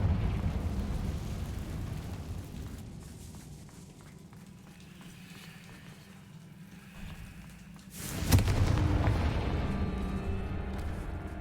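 A Confringo blasting spell in a video game goes off with a sudden loud burst late on, followed by a rumbling tail. Before it comes a long stretch of low ambient rumble with light footsteps.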